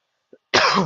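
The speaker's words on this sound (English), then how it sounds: "I'm still recovering from my cold, so I randomly will start coughing here and there." A soft catch of breath, then one sharp, loud cough from a person recovering from a cold, close to the microphone in an otherwise silent moment.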